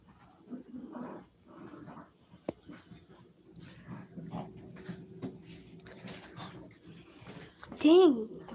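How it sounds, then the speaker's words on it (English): Dogs whimper and give short yelps and barks indoors at a friend's house, faint and scattered under people talking, with a louder whine near the end. "the doggies are going quay quay."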